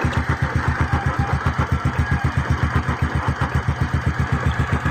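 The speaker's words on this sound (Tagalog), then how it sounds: "Talagang maingay ang makina niya, nasa loob. Sobrang ingay ito." The engine of a Suzuki Smash 115 motorcycle runs noisily with an internal fault, a fast, even pulsing chug at close range throbbing steadily with no pause.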